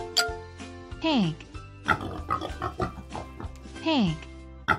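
A pig grunts and oinks in a few repeated bursts, including squealing downward calls, interleaved with other short animal-like cries and an adult voice naming farm animals in a children's learning game.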